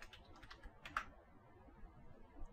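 A computer keyboard being typed on to enter a root password during an operating system installation, heard as a few quiet, scattered key clicks early on, then near silence.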